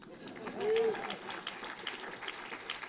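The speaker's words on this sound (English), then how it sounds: "Hold for applause." Audience applause at a Writers Guild awards-style event introducing the 101 best written TV series, a steady crowd clapping that swells briefly then holds at moderate level for the whole stretch, with no speech over it.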